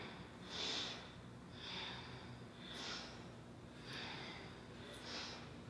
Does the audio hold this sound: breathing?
yes